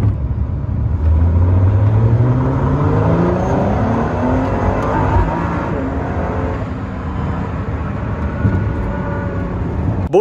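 A Ford GT sports car engine while driving, loud and close, with a rising rev sweeping upward and then a sustained strained roar easing off, a brief sharp change near the very end.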